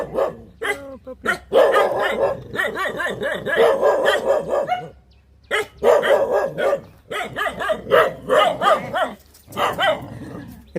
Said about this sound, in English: Oh, look at the puppy.